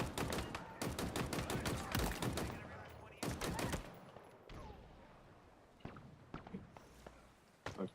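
Video game gunfire in rapid bursts: dense volleys of sharp shots in the first half, then scattered single cracks and short bursts further off, with a voice talking faintly in places.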